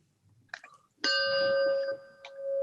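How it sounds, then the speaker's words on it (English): A bell opening a Rotary Club weekly meeting is struck once after some faint handling noise, ringing out bright and sustained before fading, with a softer tap near the end. "Our bell."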